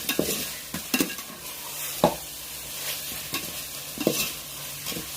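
Biryani ingredients sauté in a pan for half a kilo of chicken biryani, with a steady close sizzle and repeated scraping stirs of a spoon every second or so, no talking.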